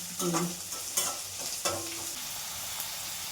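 Onions frying in a pan: a steady close sizzle broken by a few spatula scrapes and stirs in the first two seconds, then an even hiss.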